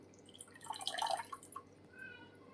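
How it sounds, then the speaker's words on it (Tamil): Brief trickle and splash of water draining off boiled spinach and dripping, soft and close, fading after a second or two. "தண்ணியை வடிச்சிடுங்க நல்லா."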